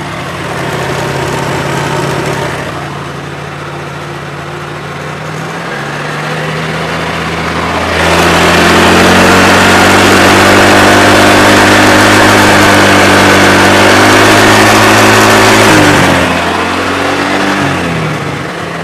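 A motorcycle engine with worn, leaking piston rings runs loud and close, idling steadily before the revs climb and hold at a high, droning pitch, then drop back down near the end; no voices.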